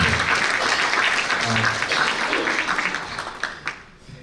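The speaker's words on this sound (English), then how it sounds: "I want to give a round of applause to Iqbal and ISDI for organizing a wonderful" An audience of about 150 people applauds at a development conference held at Harvard Law School, the clapping full and steady at first and then gradually thinning out and fading.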